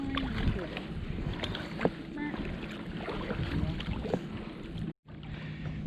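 Kayak paddling on Flathead Lake, with water swishing and splashing strokes over wind noise, a boat-like rumble and a brief dropout near the end.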